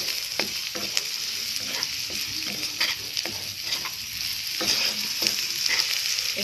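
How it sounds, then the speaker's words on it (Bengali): Chopped tomatoes frying in a pan for a vegetable tadka with onion, ginger and garlic. A steady close sizzle runs throughout, broken by repeated scraping stirs and a livelier burst of crackle near the end, with no talking. "এবারে টমেটোটা দিয়ে দেবো, দিয়ে একটু ভাজবো।"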